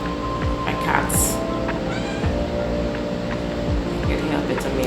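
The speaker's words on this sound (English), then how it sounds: "You can hear a bit of meows." Domestic cats meow faintly and intermittently in a room, nearly buried under steady background noise and rustling from bags and other clutter, with no speech on top.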